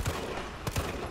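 Short quick bursts of gunfire aimed at a monster in Resident Evil 3 Remake, a few fairly faint rapid shots close together.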